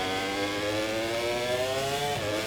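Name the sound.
racing motorcycle engine in MotoGP 24 video game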